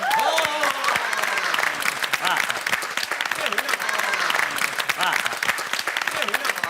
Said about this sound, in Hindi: आप लोग अपने लिए जोरदार तालियां बजाएं।